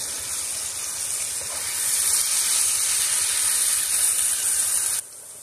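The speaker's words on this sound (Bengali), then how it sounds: "যতক্ষণ বাদামি কালার না আসবে ততক্ষণ আমি এটা ভাজতে থাকবো।" Potatoes frying in oil in a pan make a loud, close, steady hiss that swells slightly and then cuts off abruptly near the end, with no speech.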